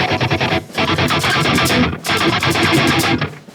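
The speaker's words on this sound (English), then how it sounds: "so this would just be like a fretting hand mute." Electric guitar chords played with fretting-hand muting make rapid, choppy, percussive strums in loud, dense bursts, broken by short silences.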